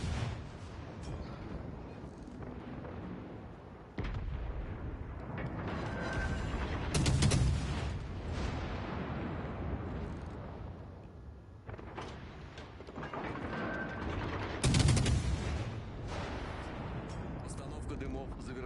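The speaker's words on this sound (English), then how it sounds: "They got that snappy Russian destroyer gun sound, though." Russian destroyer guns firing in the naval game World of Warships: Legends, with a few heavy booming salvos spaced several seconds apart over steady engine rumble and someone talking throughout.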